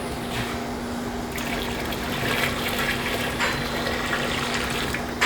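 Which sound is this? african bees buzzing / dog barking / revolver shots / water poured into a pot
water poured into a pot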